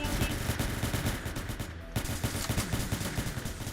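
Rapid automatic gunfire in the Roblox game Entry Point, a steady stream of loud, closely spaced shots with a brief pause midway before the firing resumes just as densely.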